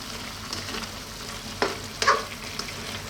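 Ampalaya and corned beef fry in a pan with a steady, close sizzle, broken by a few sharp clatters of a utensil stirring; no one speaks.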